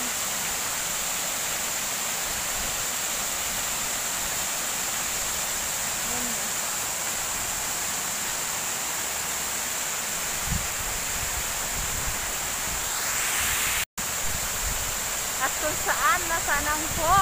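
Waterfall in the Yunan Garden, a continuous broad rushing roar heard up close, with excited voices briefly near the end.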